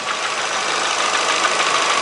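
A 2006 Renault Clio 1.0 8v D7D engine idles with the radiator cooling fan running, giving a loud, steady mechanical hum and broadband whoosh that stays even throughout with no voices.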